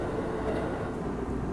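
A Kisei Line local train pulling out of a station in Mie, with a steady low rumble and mechanical hum heard from inside the carriage, continuous and fairly loud.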